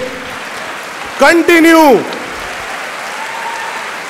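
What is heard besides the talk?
audience applause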